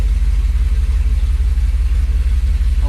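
A car's small-block Chevy 400 engine with EFI idling close by at 750 rpm, a deep steady rumble with a regular low pulsing throb and no other sounds.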